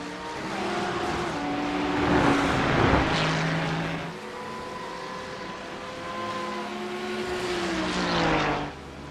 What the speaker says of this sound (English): So that Lambo just has a little bit of extra legs on the front straight to hold Paul Darling at bay.